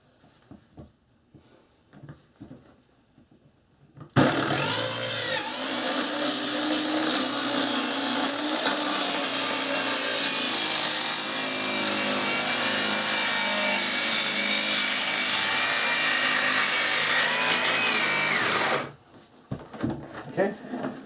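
A toe-kick saw plunges into and cuts through bathroom subfloor during a remodel, a loud, continuous rasping buzz of blade on wood running steadily for about fifteen seconds before stopping abruptly, with quieter handling sounds before and after.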